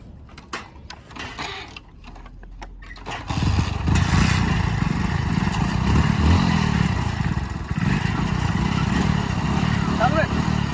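A 2021 Hero Splendor Plus and a 2017 HF Deluxe rev hard in a power race. Faint clatter at first gives way to a loud, steady engine drone, with a voice counting them off.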